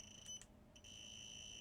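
An HABOTEST HT628AB EMF meter sounds a steady, high-pitched electronic alarm tone. It drops out briefly, then resumes and holds continuously, close and clear.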